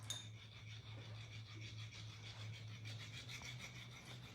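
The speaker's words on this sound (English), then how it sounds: "I'm just filing that edge just so it's a little cleaner" A hand file works the edge of a 3D-printed part with steady, rhythmic rasping strokes, quiet and close over a low background hum.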